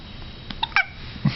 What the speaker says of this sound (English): That sounded exactly like a hiccup.